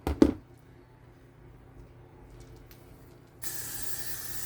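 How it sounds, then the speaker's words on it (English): Hairspray hisses from an aerosol can in a sustained spray near the end, loud and close, after a brief handling clatter and a quiet stretch. "this is what I use for hairspray"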